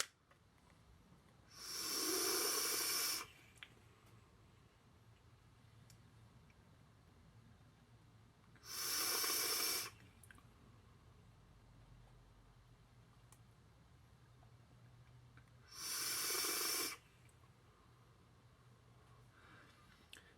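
Three long, even inhales draw through a Reload RTA rebuildable vape tank running at about 110 watts with the airflow fully open, each a steady breathy hiss lasting a second or two, separated by quiet pauses.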